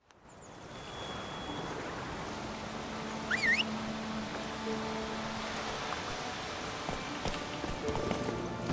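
Horse hooves clip-clop steadily during a ride in The Witcher 3, a continuous rhythmic patter under ambient game sound and occasional effects, with no talk.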